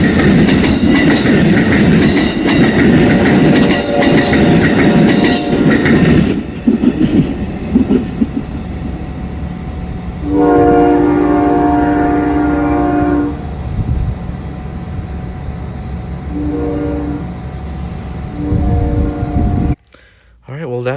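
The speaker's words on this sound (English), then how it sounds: "that's Amtrak 130 leading the Empire Service 284 southbound" Amtrak Empire Service 284 running southbound behind locomotive 130, a heritage-painted Phase 3 unit, with loud rumbling and rolling noise that eases, then a sustained multi-tone horn blast mid-clip and shorter horn notes near the end, while people talk over it.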